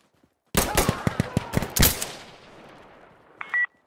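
A quick burst of automatic gunfire in Insurgency: Sandstorm, several sharp close shots rattling off in rapid succession and then ringing away, followed by a short electronic beep.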